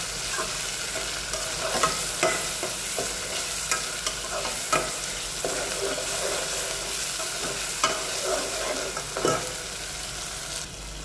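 Tomatoes fry over onions in a pan with a constant loud sizzle, broken by repeated scraping and tapping as the mix is stirred, and no one speaking.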